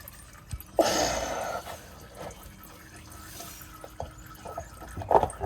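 Motor oil drains from a Camaro SS into an oil pan, heard as a brief gushing pour followed by scattered soft drips and splashes, close up in a quiet garage.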